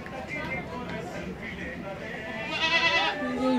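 A goat in Dhaka city lets out a short bleat near the end, rising above a steady murmur of crowd noise and background chatter.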